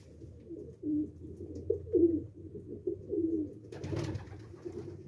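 Pigeons in a breeding loft coo with low, throaty repeated calls at close range, a series of soft rolling coos followed by a brief rustle of wings or movement.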